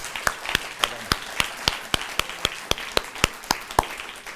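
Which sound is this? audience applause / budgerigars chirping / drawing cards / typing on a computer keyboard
audience applause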